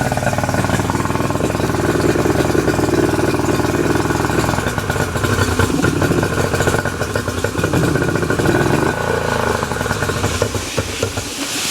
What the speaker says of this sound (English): Alright, so I got the motor running.